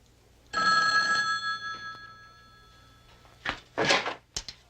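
An old telephone bell rings once loudly and fades, followed by a few knocks and clunks as the receiver is picked up.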